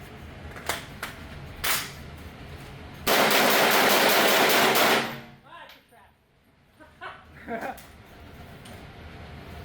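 An early factory demo MDR rifle is test fired outdoors: a few separate sharp reports, then a dense loud roaring burst lasting about two seconds, followed by quieter mechanical clicks and handling noises, with people talking around the shots.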